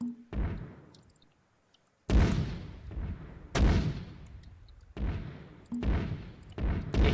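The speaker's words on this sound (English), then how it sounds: "It's a mortar fight." Repeated mortar rounds firing and impacting in an Arma 3 battle: about six heavy booms spread irregularly across the stretch, each with a long rumbling decay, fairly distant and loud, with no talking.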